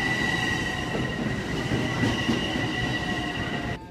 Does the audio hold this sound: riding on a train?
yes